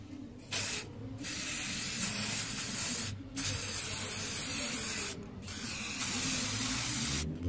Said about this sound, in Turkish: sprey boyayla parçamızı boyayacağız.